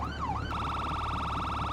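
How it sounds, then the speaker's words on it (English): A police motorbike's electronic siren in GTA V Online wails, first a rising and falling sweep, then a rapid warbling yelp repeating steadily, loud and close with no voices. "Lights and sirens."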